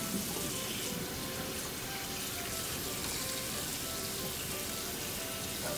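Water runs steadily from a kitchen tap while a whole raw turkey is rinsed out at the sink, a continuous close hiss and splash that holds even for the full stretch with no talking over it.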